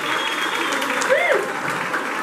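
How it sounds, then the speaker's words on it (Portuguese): Audience at a school dance festival applauds a dance school choreographer, a steady moderate patter of clapping throughout with a host speaking over it. "Palmas para ela, gente."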